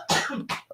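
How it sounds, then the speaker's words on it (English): A man coughs twice in quick succession, close and fairly loud, each a harsh throaty burst, followed by a short vocal sound. "Some nice coughs there"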